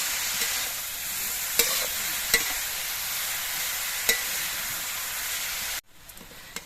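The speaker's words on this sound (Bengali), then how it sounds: "রাঙা আলুগুলো নাড়াচাড়া করে একটুখানি সময় ভেজে নিতে হবে" Sweet potato pieces frying in ghee while being stirred, a continuous bright sizzle broken by a few sharp spoon scrapes and clicks, ending in quieter frying after a brief drop.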